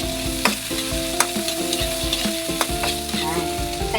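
Tomatoes sautéing in a pan for Ilocano pakbet give a loud, dense sizzle with repeated clinks and scrapes of stirring, while a steady tonal hum runs underneath.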